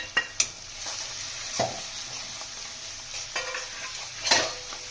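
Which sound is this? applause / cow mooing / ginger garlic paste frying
ginger garlic paste frying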